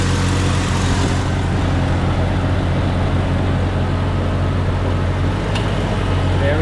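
A Jeep engine runs at a steady idle with a constant low rumble and broad hiss, close and continuous, with a faint brief click near the end.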